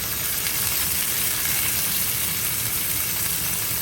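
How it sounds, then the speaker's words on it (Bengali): Shrimp and broccoli sizzling in a frying pan as tomatoes go in, a steady, close hiss of frying that holds evenly throughout with no talking. "টমেটো দিয়ে দিচ্ছি"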